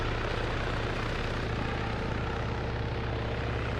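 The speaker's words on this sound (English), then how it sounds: "Green 4 is going to hear that helicopter" Helicopter rotor and engine drone from a military video game match, a steady, continuous low thrum holding at even loudness throughout with no voices over it.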